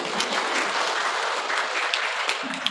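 Sustained applause from a church congregation for the parish priest at a cathedral homily, a dense, even clatter of many hands clapping steadily without a break and with no speech over it.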